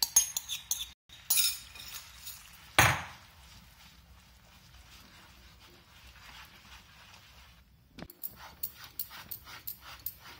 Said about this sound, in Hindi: इसमें डालने के बाद आप फटाफट से इसको चलाएं